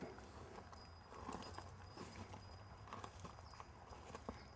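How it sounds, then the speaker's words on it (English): A horse steps backward, its hooves giving soft, irregular clip-clops on the ground, fairly quiet and steady with faint ambient noise around. "she will back that horse up"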